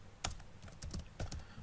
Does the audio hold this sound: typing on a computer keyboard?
yes